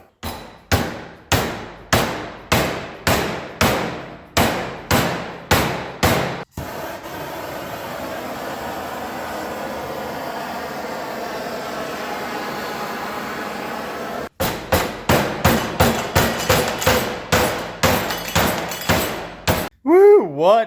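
Heavy hammer blows on metal bend a 2-inch edge, coming in rapid, loud, evenly spaced strikes. A long steady mechanical drone breaks them up, then another fast run of ringing strikes follows.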